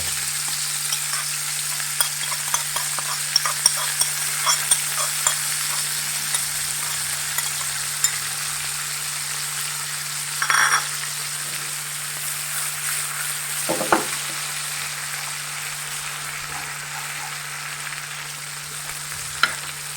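Squid fries in Goan Rechado masala in a pan, a steady sizzle with scraping stirs and a few louder clatters of the spoon against the pan, close and alone.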